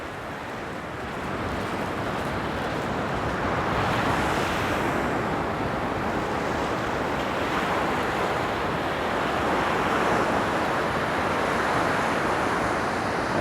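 Surf breaks and rolls continuously on a Gold Coast beach in Australia near Surfers Paradise, a broad steady wash of waves with a rushing wind across the microphone, no voices.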